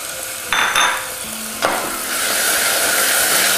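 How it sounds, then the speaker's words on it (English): Black beans stirred in a pan of hot olive oil and garlic: a brisk scraping stir over a steady, close sizzle that swells and holds, with no voices. "Give this a little loving stir here. Then add about 1 cup of cooked black beans."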